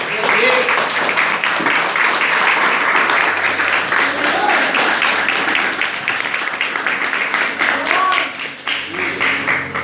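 A church congregation claps loudly and continuously through the whole stretch, a dense wash of applause with voices mixed in.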